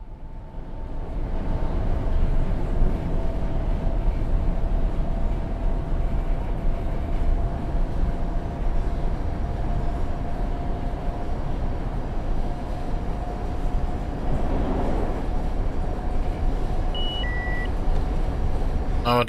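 A semi-express train in Train Sim World 6, running from Grand Central Terminal toward Stamford at about 75 mph, gives a continuous low rumble with a faint steady whine, a swelling passing noise midway and short electronic tones near the end.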